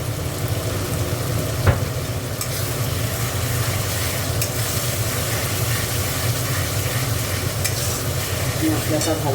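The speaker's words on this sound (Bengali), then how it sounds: "মশলাটা ভালো করে কষিয়ে নিই" Masala spices for a Bengali doi katla curry, with Kashmiri chilli powder, sizzle and crackle steadily in a hot pan, a continuous frying hiss with occasional stirring scrapes and one sharp clink, close and loud throughout.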